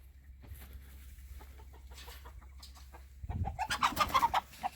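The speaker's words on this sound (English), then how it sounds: "Here's some of our chickens getting around." Chickens cluck and squawk in a burst of rapid calls near the end, after quieter scattered bird sounds over a low background hum.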